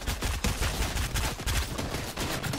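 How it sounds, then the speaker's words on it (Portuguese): Rapid gunfire in the Fortnite video game, dense overlapping bursts of shots cracking one after another without pause, loud and close. "Caramba, é tiro pra todo lado, velho."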